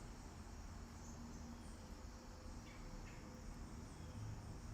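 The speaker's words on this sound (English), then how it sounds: "Still taking in the sounds of the earth, the crickets" Faint, steady chirping of crickets in a quiet outdoor setting, a continuous soft drone with no voices.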